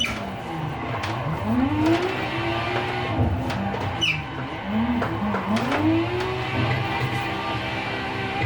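Lexus IS300 drifting in a sim racing game with a Clutch Gang mod pack, its engine droning and revving in rising and falling sweeps with brief tire squeal, steady and close throughout.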